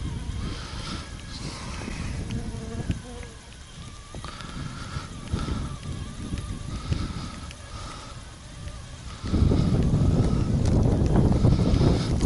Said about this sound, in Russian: В помощь мне только ветер, который мне в спину дует.